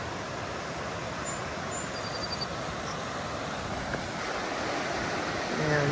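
A whitewater rafting river on the Appalachian Trail rushes as a steady broad wash of flowing water, constant and moderately loud from nearby, without talking.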